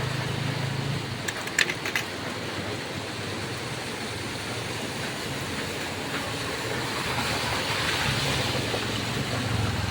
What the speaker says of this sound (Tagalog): Grabe kadagas tubig, mga 4 ka oras ikas pag-ulan buntag sayo.